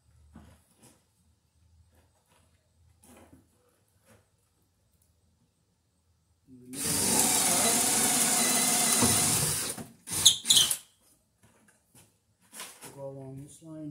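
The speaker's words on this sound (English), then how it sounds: "Okay, so we'll drill our holes in a straight line here." A drill boring holes in a straight line through wooden wall studs during outlet installation, one loud sustained burst of about three seconds followed by a couple of short blips, with quiet handling noise around it.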